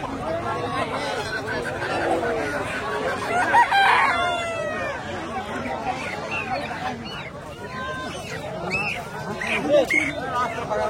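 Chickens crow and cluck at a busy animal market in Ilambazar, their calls rising out of a dense crowd babble with nearby voices talking throughout.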